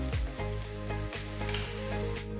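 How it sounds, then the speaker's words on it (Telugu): Freshly pounded ginger and garlic frying in hot oil for Chettinad pepper chicken masala, a continuous near sizzle with a few spoon scrapes as it is mixed around the pan, no talking. "నేను ఇందులో ఫ్రెష్ గా దంచిన 2 టీ స్పూన్ల అల్లం వెల్లుల్లిని వేస్తున్నాను"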